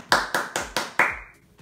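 Five sharp, evenly spaced claps ring out in a slow rhythm, close and loud, each with a short decaying tail, followed by a faint sixth tap; offered as applause for a DJ.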